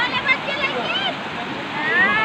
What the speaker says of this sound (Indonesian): sekarang mandi di bawah air terjun